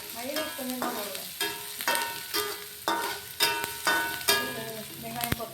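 Onions and green chillies frying in a pan, soft sizzling with a series of regular stirring scrapes roughly once a second, fairly quiet and close, ending with a sharp clink.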